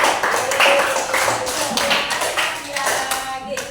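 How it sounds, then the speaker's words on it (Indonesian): Classroom pupils clap for a classmate, a quick scattered patter of hands sustained throughout at moderate volume, with faint voices mixed in. "tepuk tangan buat Nadia"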